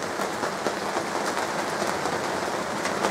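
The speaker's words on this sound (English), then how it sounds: "a rainy day" Steady rain falls on a rainy day, a dense, even hiss of drops on a surface that carries on without a break, close and fairly loud, with no voices.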